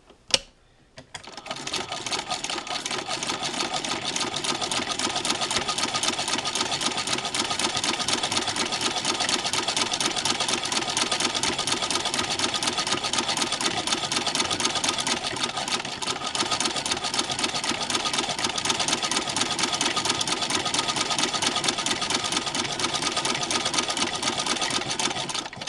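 A Singer 15-88 sewing machine fitted with a zigzagger attachment runs steadily in straight stitch on a small fabric jacket, a continuous, even mechanical whirring and rapid needle clatter that stays close and loud.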